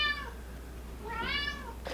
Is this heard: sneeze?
no